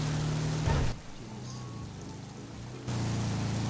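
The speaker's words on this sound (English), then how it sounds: "I don't know if this rain's ever gonna stop" Steady rain hisses in GTA V NoPixel roleplay as an even, broadband wash that drops quieter for a couple of seconds midway and then swells back, with no voices.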